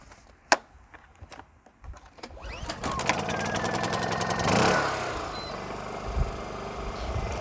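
A Honda portable generator is pulled to start and catches, its small engine revving up and settling into a steady running drone after a few sharp clicks and knocks.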